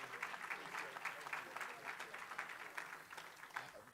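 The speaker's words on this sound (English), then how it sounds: "let's give the Deputy Secretary a round of applause" Audience at a legislative policy conference applauding the Deputy Secretary, dense and steady clapping from many hands that fills the room at an even, moderately loud level throughout, with no voices over it.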